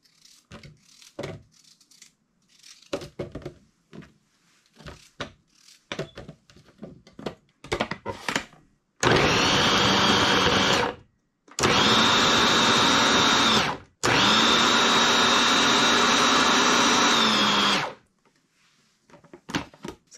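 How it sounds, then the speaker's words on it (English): A food processor chopping zucchini into small pieces, three loud whirring bursts of a few seconds each with short pauses between, following some light kitchen clatter. "it is now time to put it in our food processor"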